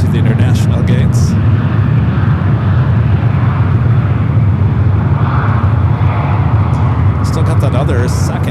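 An Aer Lingus airliner taxis at San Francisco airport with a loud continuous engine drone, while people talk over it.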